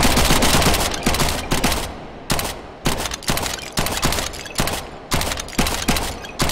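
Loud, sustained bursts of UMP submachine gun fire in the VR shooter H3VR, likely akimbo, with rapid automatic strings broken by short pauses and no talking.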